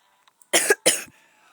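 Two quick, harsh coughs in a row, close and loud, followed by a brief quiet breath.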